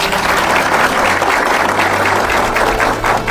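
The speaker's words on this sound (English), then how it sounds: "Can we please applaud them again?" Steady, dense applause from a seated audience at a Nigerian 20 Questions TV event, a loud continuous wash of many hands lasting the full few seconds without a break.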